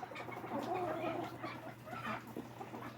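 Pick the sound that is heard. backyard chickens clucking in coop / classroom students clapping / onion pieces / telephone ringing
backyard chickens clucking in coop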